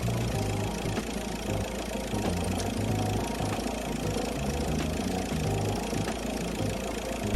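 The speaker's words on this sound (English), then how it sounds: "start the engine and let it idle as per the previous case" A car engine runs at a steady idle during a cooling system check with a water pump tester, a constant mid-pitched hum and rumble close by with no talk.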